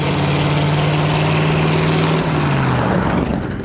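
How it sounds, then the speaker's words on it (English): Ford flathead engine idling and warming up, a loud close low drone with a steady throbbing hum that eases slightly and drops in pitch toward the end, with no talk over it. "Now the engine's settling out, the plugs are warming up."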